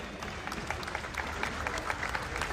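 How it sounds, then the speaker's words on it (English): An audience at a live event in Dubai applauds, with moderately faint, steady clapping in which individual claps stand out in a loose rhythm over a low background hum. "A big round of applause for Karan and Tejasswi."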